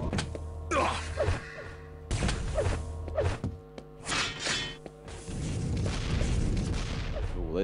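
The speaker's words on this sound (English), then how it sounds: "those rockets whizzing by but doing absolutely nothing" Rockets whizzing past in the arena shooter Quake Live, a run of loud whooshes and booming impacts mixed with clanking weapon and footstep sounds throughout.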